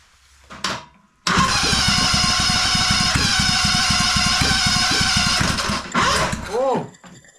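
A small engine cranks with a rapid rhythmic chugging for several seconds, then stops; brief whirring starter bursts follow, with faint sounds before.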